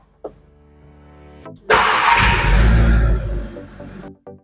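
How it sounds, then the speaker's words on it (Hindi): A Skoda Kushaq 2025 car engine cranks and catches with a loud burst, running at a strong, steady roar for about two seconds before settling and cutting off, preceded by a faint click in a quiet cabin. "चलिए अब कार स्टार्ट करते हैं।"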